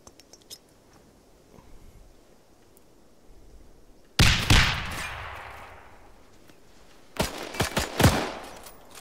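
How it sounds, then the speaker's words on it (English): Gunfire in the Arma 3 video game during a World War II D-Day battle: quiet at first, then a loud burst of shots with ringing decay, followed by a rapid cluster of sharp cracks. "Once we throw the grenades and they go off, pop up and start shooting."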